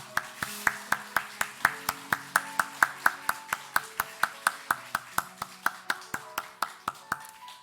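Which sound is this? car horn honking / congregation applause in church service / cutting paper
congregation applause in church service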